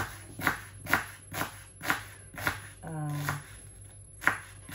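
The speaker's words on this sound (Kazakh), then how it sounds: "Енді пиязымызды как обычно андай қылып турап аламыз." A knife chops onion on a board in steady, evenly spaced strokes, close and crisp, with a brief rattling clatter partway through.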